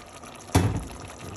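Water poured from a container into a pot of tomato sauce with tripe, a short splashing gush that starts abruptly and fades into a low simmering bubble, close by and moderately loud.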